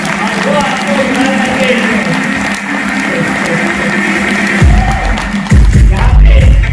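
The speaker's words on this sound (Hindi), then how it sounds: "उनके लिए जोरदार तालियां" Loud applause from an audience at a direct selling business event in India, filling the room with dense, continuous clapping and scattered voices, swelling stronger toward the end.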